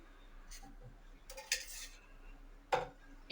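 A kadai set down on a stove, with a few short metallic clanks and knocks of the pan in a quiet kitchen.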